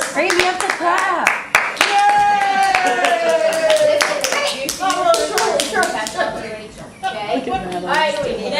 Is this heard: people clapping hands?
yes